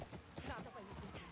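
Horse hooves clip-clop in The Last of Us Part II during a chase with enemies in pursuit, a quick rhythmic patter of hoofbeats in a busy game mix with voices speaking over it.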